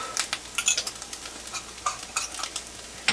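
Homemade chicken taco filling sizzles in a pan while a utensil scrapes and stirs in quick, irregular strokes, close by.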